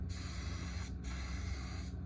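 Short test bursts of spray paint from an aerosol can onto cardboard, two close hissing sprays separated by a brief gap, quiet and steady with nothing else audible.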